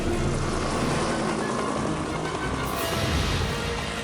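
Helicopter rotor and engine noise in the Hellsing Ultimate Abridged animation as the aircraft tries to land, a steady loud broadband drone that holds throughout with a slight surge near the end.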